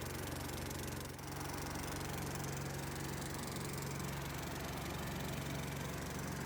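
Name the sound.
petrol generator engine running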